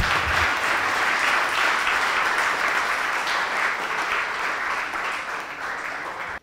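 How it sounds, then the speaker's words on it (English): A large audience at a certificate distribution and valedictory ceremony applauds, dense sustained clapping at steady loudness throughout, tapering slightly at the end, with no voices over it. "A huge round of applause for him"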